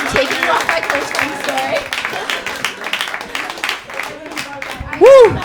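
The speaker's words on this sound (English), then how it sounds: "Clap it up for him, everybody." An audience at a Roast Battle League New York show claps and applauds. The loose, moderate clapping runs beneath a performer talking over it, ending on a short loud whoop.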